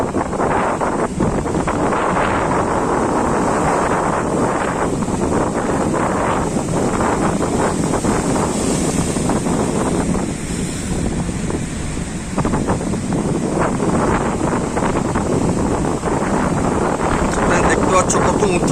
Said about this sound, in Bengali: সমুদ্রে আমাদের উপরে জল আসছে দেখো এটা জোর মারবে